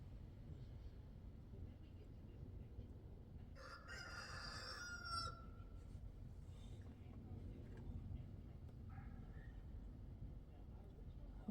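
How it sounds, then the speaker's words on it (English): A rooster lets out a clear crow, followed by a fainter second call, against steady low background noise. "Old Rooster's having a fit out there."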